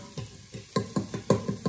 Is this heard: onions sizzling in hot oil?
yes